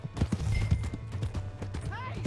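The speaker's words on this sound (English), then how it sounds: "Hey, shit, my horse!" A horse gallops in Red Dead Redemption 2, rapid hoof clip-clops up close with a brief whinny near the end and game characters talking over it.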